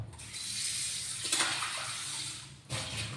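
Hot water that lightly boiled mushrooms with a garlic clove is poured off and the mushrooms are rinsed: a continuous splashing, running-water rush, close and fairly loud, with a brief clatter midway and a short break near the end.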